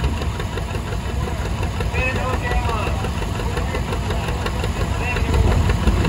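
An old tractor engine idles steadily at a power parade, a continuous low rumbling chug under outdoor crowd noise and nearby conversation.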